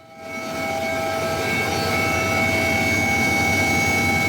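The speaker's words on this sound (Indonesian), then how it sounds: "tim gabungan juga menerjunkan 1 unit helikopter untuk memaksimalkan pencarian dari udara" A search and rescue helicopter flying over a burning ferry site, its engine a steady droning whine with sustained tonal hum that swells in quickly and then holds loud and even.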